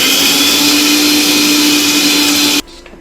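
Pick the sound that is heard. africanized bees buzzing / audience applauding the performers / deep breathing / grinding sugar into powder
grinding sugar into powder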